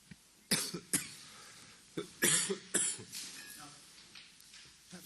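Several sharp coughs and throat-clearing bursts echo through a courtroom during an international criminal trial hearing, spaced irregularly over a few seconds with faint room noise between them.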